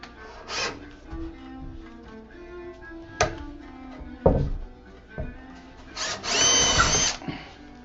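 A power drill with a 1-inch bit bores into wood for a DIY TV stand, heard as short bursts of whirring and grinding spread among knocks and handling noises, ending in a louder sustained drilling run.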